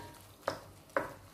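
Pot of Filipino coconut milk stew with bitter melon and long beans simmering, soft bubbling broken by three distinct plopping bursts at regular intervals, close by and moderately loud.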